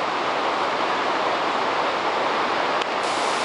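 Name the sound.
waterfall on the Inca trail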